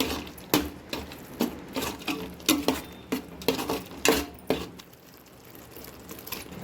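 Chicken being stirred with chicken masala, chilli powder and coriander powder in a pan for mint chicken gravy, giving irregular scraping and clinking strokes of a spoon against metal, fairly close, then quieter toward the end.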